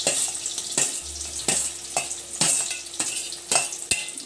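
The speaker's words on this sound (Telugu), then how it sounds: "కొంచెం ఇవన్నీ బాగా వేగిన తర్వాత ఆనియన్స్ వేసేస్తున్నాము." Onions tossed into a pan with ginger-garlic paste, green chillies and curry leaves for a fish curry: a steady sizzle under rhythmic scrapes of a spoon stirring about twice a second, close and fairly quiet.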